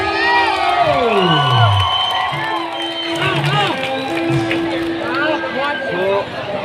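A crowd cheers and shouts at a stage event, a loud, steady roar of voices with whoops rising and falling throughout, while a voice carries over the top.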